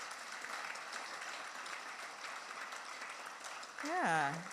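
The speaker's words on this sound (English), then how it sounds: "I think she deserves a bigger round of applause" A graduation ceremony audience claps in a sustained, even round of applause that swells near the end, as a single voice begins speaking over it.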